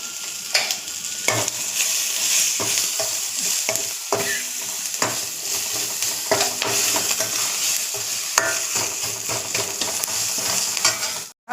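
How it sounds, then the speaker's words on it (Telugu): Pumpkin curry base frying in a pan with salt and ginger, a steady close sizzle with repeated scraping stirs and spoon knocks throughout, no voices. "ఇది కొంచెం వేగనివ్వాలి."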